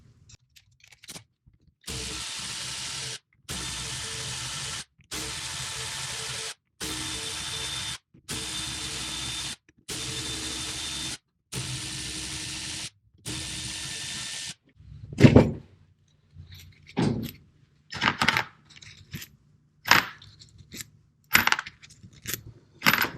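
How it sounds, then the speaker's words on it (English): A ratchet tool unscrews Torx T27 screws on a Bosch K-Jetronic fuel distributor from a Porsche 924 Turbo, giving a series of steady buzzing ratchet pulls with short pauses, followed by scattered metallic clinks and clatter close by. "unscrew the Torx bits, or the Torx screws"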